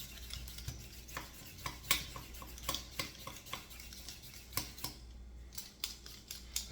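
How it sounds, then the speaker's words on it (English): OXO peeler scraping the skin off a big Idaho potato, a series of short, crisp rasping strokes at an uneven rhythm, close and fairly quiet, with no talking. "My beloved OXO peeler."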